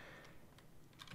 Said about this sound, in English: I'm hitting a key on the keyboard.